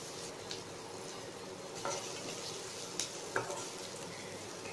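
Ginger garlic paste and onion frying in ghee for mung dal, a dense, even close sizzle with a few faint spoon scrapes, no talking.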